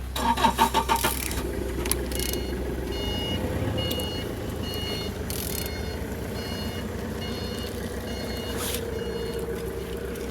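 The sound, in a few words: Z13DTH car engine turning over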